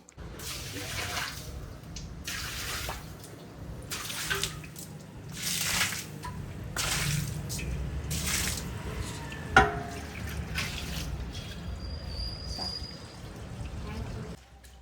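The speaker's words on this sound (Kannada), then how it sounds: "ಇವಾಗ ನೀರ್ ಹಾಕ್ತಿದ್ದೀನಿ ಬಿಕಾಸ್ ಏನು ಗೊತ್ತಾ, ತುಂಬಾ ಮಣ್ಣು" Water poured and splashed across a dirty floor during washing, a steady rushing and spattering with bursts, while a person talks over it throughout.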